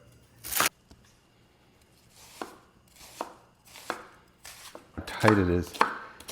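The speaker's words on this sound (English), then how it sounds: "Time to break down the onion." A knife chops an onion on a cutting board for a chicken mole, sounding as a few sharp, spaced cuts followed by a quick burst of chopping near the end, with a brief spoken remark between strokes.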